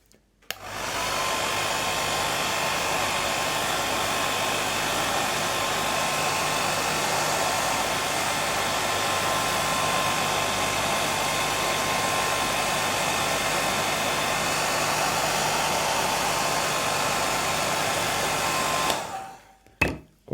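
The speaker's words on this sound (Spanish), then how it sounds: "en cuanto le da un poco de aire del secador" A hair dryer blowing air onto craquelure crackle material for a scenic miniature base: a steady, loud whirring roar that switches on, runs unbroken for about eighteen seconds, then cuts off with a few clicks.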